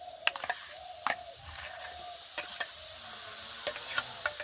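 Fresh grated coconut and date-palm jaggery are stirred in a wok over a low flame, with repeated scraping spatula strokes and light clicks over a constant bright sizzle.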